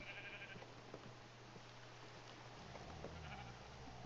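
Sheep bleat in a video game while hardcore farming, a few short wavering calls over a steady low hum and soft background game noise, with no talking.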